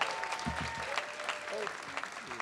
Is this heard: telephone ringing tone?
no